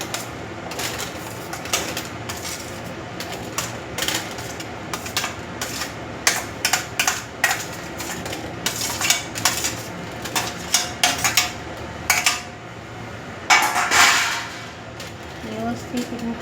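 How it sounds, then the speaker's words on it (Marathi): Chickpeas poured into a tissue-lined air fryer basket, clattering in irregular rattling bursts of small hard pieces hitting the container, with a voice speaking between them. "आता हे आपण चणे सगळे यामध्ये घालून घेऊया."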